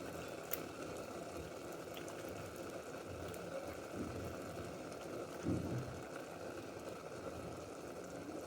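Sugar syrup with lemon juice and lemon pieces boils in a pot, a faint, steady bubbling simmer with a few slightly louder bursts.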